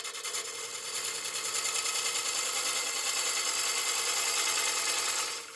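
A wood lathe spins a wooden platter at about 600 RPM, a steady close whirring hum that holds evenly for several seconds before easing off at the end.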